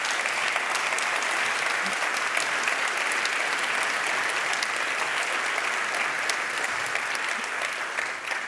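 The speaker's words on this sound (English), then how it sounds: "Yes, your applause." Sustained, loud audience applause at an award ceremony, a dense, even wash of many hands clapping that holds steady for several seconds and fades slightly at the very end.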